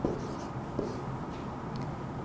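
Pen or marker scratching across a board during a grade 9 maths lesson taught in Turkmen. Soft, continuous scraping strokes with a couple of brief taps, close by over a steady room hum, with no voice.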